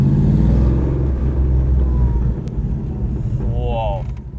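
An entirely carbon-bodied supercar engine runs at high RPM with a loud, low, throbbing drone that softens partway through. Wind buffets the microphone, and a voice speaks briefly near the end.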